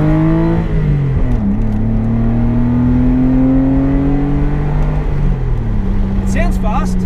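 A Porsche Boxster engine revs in repeated rising and falling sweeps, loud and close, with a steady drone between the pulls.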